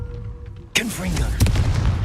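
Confringo blasting spell in the Hogwarts Legacy video game: one sudden loud blast after a quiet start, with a rumbling decay that carries on under the spell's crackle.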